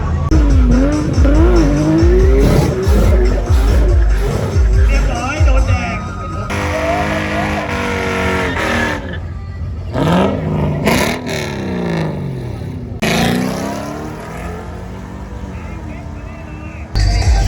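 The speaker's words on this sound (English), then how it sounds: "GT3 versus Gallardo. They're both horrible at launching." Porsche GT3 and Lamborghini Gallardo launching at a Bangkok car show, loud engines revving and roaring with tire squeal, voices and crowd noise mixed in throughout.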